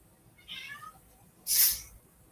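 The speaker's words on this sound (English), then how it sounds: "Damn cat." A house cat meows twice at close range, first a softer cry and then a sharper, louder one a second later, with quiet room tone around them.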